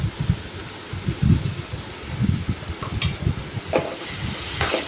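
A paste of dried and fresh green chillies fries in a pan with a steady sizzle and bubbling, along with soft stirring sounds up close.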